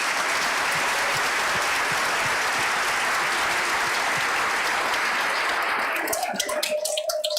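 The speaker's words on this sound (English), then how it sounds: "So let's give them one more round of applause." Sustained, dense applause from an audience at an elementary school spring concert, a loud even wash of many hands that thins into scattered claps near the end.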